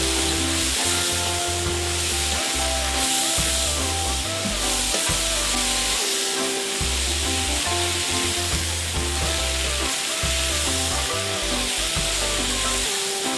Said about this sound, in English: we'll go ahead and add your onions and your celery and your peppers. And stir those in as well